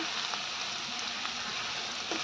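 Curry leaves, ginger and garlic sautéing in hot oil, being stirred with a spoon for a drumstick and potato curry; a dense, even sizzle fills the whole short moment with faint crackles and no talking.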